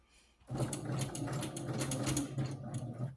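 A sewing machine stitches through the thick layers of a rag quilt, running in one steady mechanical burst of rapid needle clatter for a few seconds, with no talk.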